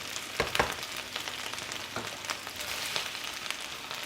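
Pieces of food frying golden brown in a pan make a steady, dense sizzle with scattered pops and crackles throughout, close up and without any talking.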